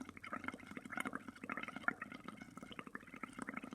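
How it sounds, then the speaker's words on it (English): Bubbles blown through a straw into paint water in a bowl, a soft, steady bubbling gurgle that rises and falls in short puffs, close and fairly quiet, with no talking. "Now you want to keep blowing until the bubbles go over the top of the bowl or the container that you're using."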